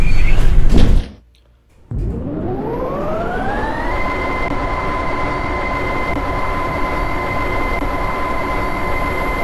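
A Roblox traction elevator door slides shut with a brief clunk, then the lift starts moving with a rising whir that settles into a steady loud hum, with no one speaking.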